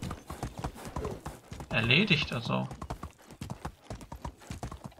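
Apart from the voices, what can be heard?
horse hooves clip-clopping while riding, Medieval Dynasty video game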